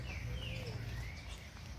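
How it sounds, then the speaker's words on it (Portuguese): Small birds chirp in a town square, a few thin, rising and falling calls over low background hum, moderately distant and brief. "Aqui os passarinhos, né? Ali também. Olha os passarinhos."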